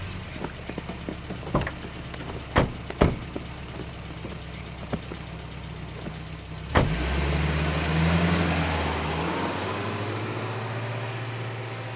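A car engine starts after a few door thumps and clicks, then idles and runs with a steady, loud, close rumble that continues to the end.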